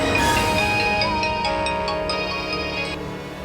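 A phone ringtone for an incoming call plays a bright, repeating melodic pattern, loud and close, fading slightly toward the end, with no talking.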